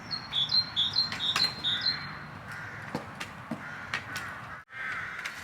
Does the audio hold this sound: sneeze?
no